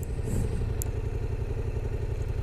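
A Yamaha XSR 700 motorcycle engine idles with a rapid, even putter, close and steady throughout.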